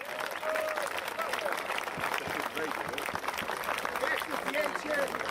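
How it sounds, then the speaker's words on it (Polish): A crowd at a ceremony honoring sponsors and players for a club's promotion to the third league applauds, with dense clapping lasting several seconds under voices and some cheering. "Jeszcze raz wielkie brawa i wielkie podziękowania dla wszystkich sponsorów. Głośne brawa!"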